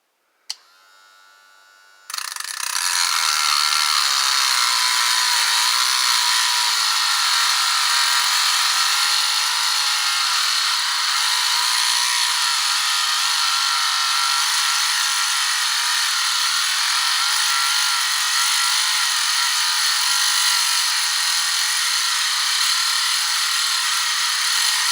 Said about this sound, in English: So, here's my drill, here's my cutting wheel,